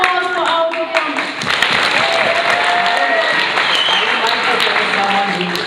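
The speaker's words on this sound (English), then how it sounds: "one more round of applause for our performance" Audience applause after a stage performance at a wedding gathering, a steady dense wash of clapping throughout with voices calling and chattering over it.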